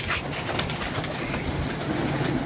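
Pigeons coo amid a dense, steady rush of broadband noise, with no voices and no clear breaks across the stretch.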